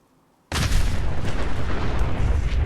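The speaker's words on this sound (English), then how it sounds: "I think we got something about to explode nearby" A nearby explosion in Fallout 4 with the Sim Settlements 2 mod, near the Boston Police Station: after a moment of quiet, a sudden loud boom erupts into a dense, sustained roar of rumbling blast and debris that continues to the end.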